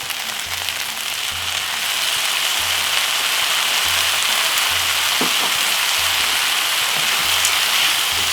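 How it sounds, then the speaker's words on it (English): Vegetable fried rice with sweet corn and soy sauce stir-fried in a hot pan, a loud, dense, continuous sizzle with occasional scraping knocks and a faint low rhythmic hum beneath. "Stir fry veggie rice, Chinese style."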